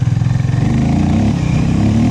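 A Harley-Davidson X440T motorcycle pulls hard with the throttle open, its close, loud engine thumping in a rapid rumbling pulse that climbs steadily in pitch.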